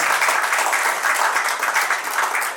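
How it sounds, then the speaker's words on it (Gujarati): Loud, steady applause from a crowd at a medical center opening, dense clapping filling the whole stretch without a break. "આપણે જોરદાર તાળીઓ સાથે આ વાતને વધાવી રહ્યા છીએ"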